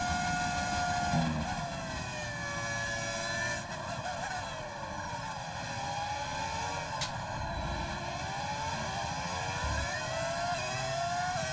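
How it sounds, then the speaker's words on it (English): A V10 Formula 1 engine in the F1 25 racing game screams steadily at high revs around Silverstone run in reverse, its pitch rising and falling with each gear change and corner. "V10 engine sounds the best ever?"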